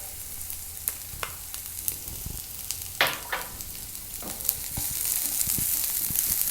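Vegetables and chopped onion frying in oil in a pan, a constant sizzle broken by scattered clicks and stirring scrapes, with a louder burst midway and the frying swelling toward the end.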